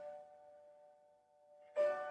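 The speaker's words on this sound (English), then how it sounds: "We'll hear one final bell indicating that our time is up" A meditation bell rings once to close a session, its pure tone sustaining and slowly fading, then a second brighter strike sounds near the end, close and clear in a quiet room.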